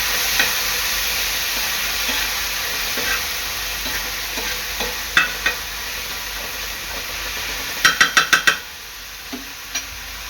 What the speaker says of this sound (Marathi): आता ह्यामध्ये मी टाकणार आहे टोमॅटो पेस्ट। टोमॅटो पेस्ट चांगली मिक्स करून घ्यायची आहे।